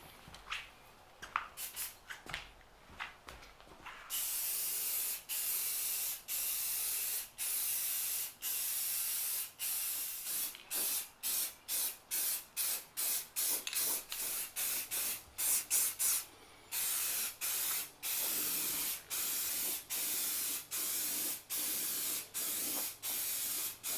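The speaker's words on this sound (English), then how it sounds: "I'm going to paint the case components with this Rust-Oleum matte black high heat paint" Rust-Oleum matte black high heat spray paint applied to barbecue case components, coming as a long run of short, sharp aerosol bursts in rapid succession, close and loud, with no talk.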